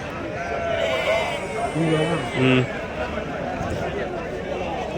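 Goats and sheep bleat in short, nasal bursts at Angallu's weekly Saturday goat market, with a few cries standing out over a constant background of crowd chatter and nearby voices.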